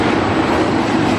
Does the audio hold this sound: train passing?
yes